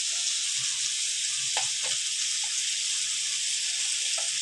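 Spices sizzle and fry in a pan with pui and pumpkin greens, a constant bright hiss with a few soft spatula scrapes and stirs.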